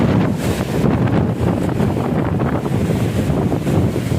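Strong storm wind roars steadily at a shoreline and batters the microphone with a dense, loud rumble for the whole stretch, and no voices are heard.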